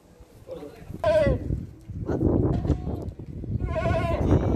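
Rajanpuri goats, including a spotted doe with kids, bleat in short wavering calls near the start and again at the end, with people talking over steady background chatter throughout.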